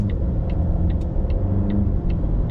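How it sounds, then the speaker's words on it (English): A supercharged 2025 Volvo XC90 seven-seater pulls away on the road, a steady low engine rumble with light regular ticks over it, no talking. "Give it some gas here."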